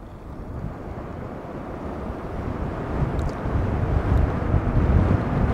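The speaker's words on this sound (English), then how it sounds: "Let's put her in mode two and see how quickly that accelerates" A Caroma C1 electric scooter accelerates in mode two, giving a steady rushing hum mixed with wind roar that swells gradually louder as speed builds, recorded close with no talking.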